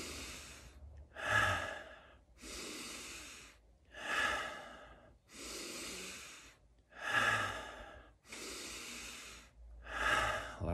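Slow, deep breaths in a guided breathing exercise, close and clear, with long inhales and exhales repeating in a steady rhythm and no talking.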